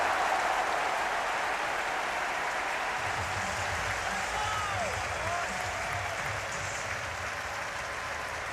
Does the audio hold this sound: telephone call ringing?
no